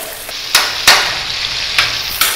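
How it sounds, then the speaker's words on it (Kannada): Onions sizzle in a hot pan while being fried for drumstick sambar, a steady hiss broken by a few sharp clanks of a spoon against the pan. "ನೋಡಿ, ಇಷ್ಟು ಫ್ರೈ ಆದ್ರೆ ಸಾಕು ಈರುಳ್ಳಿ."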